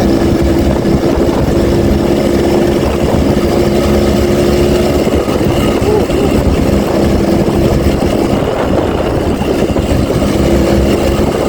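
A Yamaha V80 Super Deluxe motorcycle with a 79 cc two-stroke engine and a small carburetor runs steadily at close range, giving a constant buzzing drone with no pauses.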